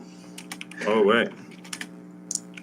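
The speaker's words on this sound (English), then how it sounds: "I literally hear you typing." Computer keyboard typing in quick, scattered clicks during a tabletop game session, briefly covered by a loud voice in the middle; the keystrokes sound close and moderately loud.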